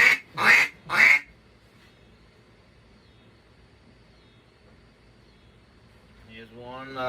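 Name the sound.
duck call, cypress barrel with black acrylic tone board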